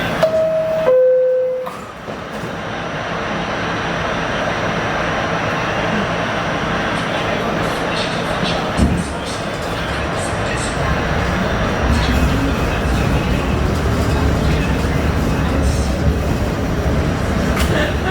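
On an MTA R68A Q subway train, a two-tone door chime sounds, then the doors close and the train pulls away. Its motor whine climbs steadily over a loud, continuous rumble as it picks up speed.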